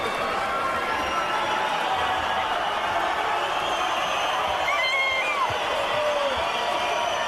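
An appreciative boxing crowd fills an El Paso arena after the Abner Mares vs. Eric Morel fight, a steady, dense roar of murmuring and cheering that stays loud throughout with no single voice standing out.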